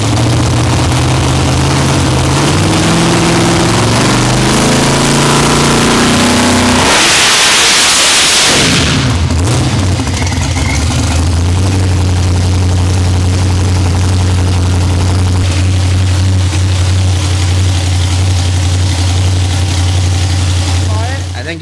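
Boosted car engine revving in bursts with rising and falling pitch, then a loud whoosh of noise and a settled steady drone; loud and close, with talking over parts of it.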